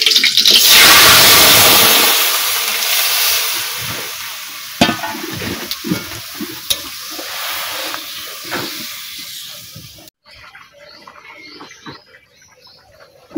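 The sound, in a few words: boiled dal added to hot oil with cumin and bay leaf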